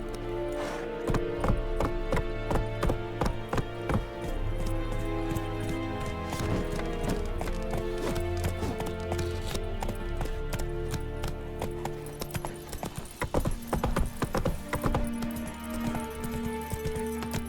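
Roach, Geralt's horse in The Witcher 3 video game, gallops with a steady drumming clip-clop of hooves, loud and close, over a continuous music bed without talk.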